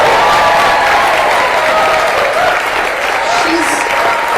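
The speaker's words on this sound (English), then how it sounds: "I think we could give her a round of applause right now just to start." Loud crowd applause at a town hall, continuous dense clapping with some cheering voices mixed in, close and sustained throughout.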